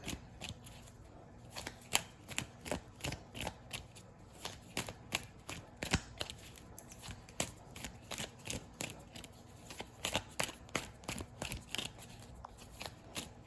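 Tarot cards are shuffled and drawn in quick, crisp riffling bursts, a steady run of close, soft papery flicks with no talking.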